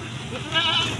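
A female Bligon goat gives one short, wavering bleat, close and moderately loud, over a low background hum.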